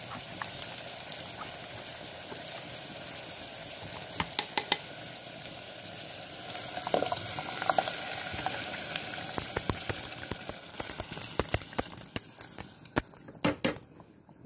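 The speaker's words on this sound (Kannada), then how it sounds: "ಉರಿ ಸಣ್ಣ ಮಾಡಿರೋದ್ರಿಂದ ಒಂದು ಸ್ವಲ್ಪ ಕುದಿ ಹತ್ತಲಿ" A pan of tindora curry with added water simmers and sizzles on low heat, a steady bubbling hiss broken by sharp metallic clicks and scrapes of stirring that grow busier toward the end, with no voices.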